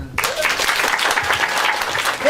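Applause from a theatre audience at an improvisation show, voting for an improviser: steady, dense clapping from a full room, lasting a couple of seconds without a break.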